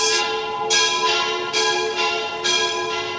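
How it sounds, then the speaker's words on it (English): Church bells in Rome ring to call people to Mass, a steady series of resonant metallic strikes about every three-quarters of a second, loud and sustained with long overlapping ringing tails, no voices. "Now those bells mean that Mass is going to occur."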